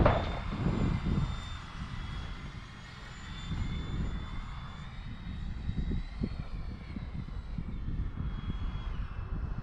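A Freewing A6 Intruder RC model jet hums through its landing, a steady ducted-fan whine with a slowly shifting pitch under light outdoor wind noise, fairly faint and without talk.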